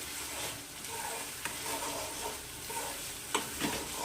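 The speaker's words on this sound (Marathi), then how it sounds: "हलकंसं तेल सुटेपर्यंत आपल्याला मसाला परतून घ्यायचा आहे" Masala sautéed in oil for a Vidarbha-style patwadi rassa: a quiet, continuous oily sizzle with soft stirring scrapes and a couple of sharper spatula taps.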